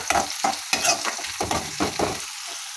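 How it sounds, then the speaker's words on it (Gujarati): Sliced onions sauté over low heat for a palak matar masala sabji, with repeated spoon-stirring scrapes in an irregular rhythm over a soft, close sizzle. "હવે ડુંગળી સંતળાય છે"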